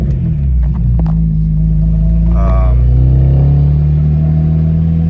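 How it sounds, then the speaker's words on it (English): A BMW 335xi E92 engine runs with a steady, loud low rumble close by, swelling slightly as it revs partway through, with faint voice-like sounds in the background. "car is running a little bit better"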